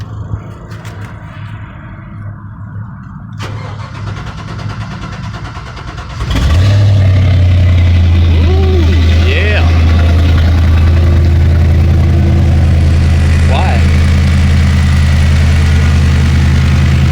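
LS-swapped car with a newly installed floor shifter cranks and fires at about six seconds, then settles into a loud, steady, deep idle with a few light revs, close to the microphone.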